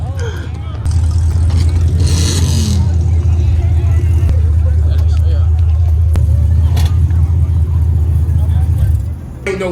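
Cars idle and rumble steadily at a busy car meet, a loud low engine drone filling the whole stretch as vehicles pull up and back into spots, with a brief brighter rush early on and people talking over it.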